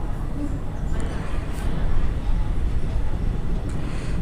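The Pinakini Express pulls out of Ongole railway station with a low, steady rumble of rolling wheels and carriages, continuous and fairly close, with faint talk over it.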